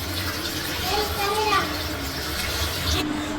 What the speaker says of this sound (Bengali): চাল টাল ধুয়ে দিই।